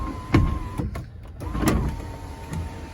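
The power sunroof of a 2007 Toyota Tundra Crewmax 4x4 Limited slides open automatically with a steady electric motor whine inside the cab, broken by a couple of soft clunks, close and moderately quiet.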